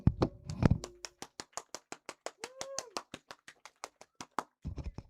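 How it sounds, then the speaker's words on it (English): A steady round of rhythmic clapping at a school district reading event, evenly spaced hand claps from a small group, with a few voices and a brief high call partway through. "So I want to give you a round of applause this afternoon."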